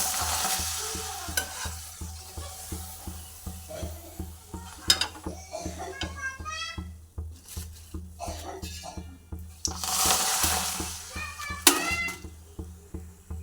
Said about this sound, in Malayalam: നല്ലതുപോലെ നമുക്കിതൊന്ന് ഇളക്കിയെടുക്കാം.